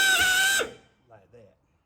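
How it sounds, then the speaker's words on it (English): A hand drill bores a rivet hole through sheet-metal tin, a short burst of high whining motor noise that cuts off abruptly, followed by brief quiet metallic clicks. "The chuck on the drill is inevitable when the bit goes through."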